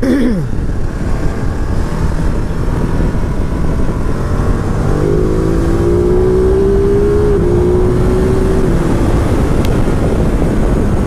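A 2019 Ducati Multistrada 950 S engine pulls hard, its rising tone climbing through the revs in a loud, close, continuous surge over road and wind noise.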